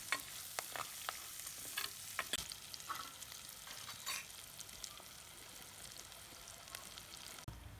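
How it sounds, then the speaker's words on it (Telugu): Sliced onions fry in a pan of tempering for dal khichdi, a quiet steady sizzle with frequent sharp stirring scrapes early on that grow sparser, and no talk. "ఉల్లిపాయలు కొద్దిగా రంగు వచ్చేంత వరకు వేయించుకుందాం."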